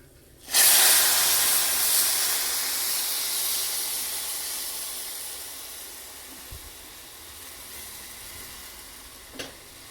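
Milk for vermicelli kheer hits a hot pan with a sudden loud sizzling hiss that slowly fades and steams on for several seconds, with a faint clink near the end.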